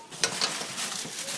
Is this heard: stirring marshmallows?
yes